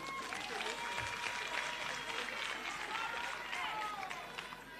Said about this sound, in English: Let's give Comrade Pusele so a round of applause.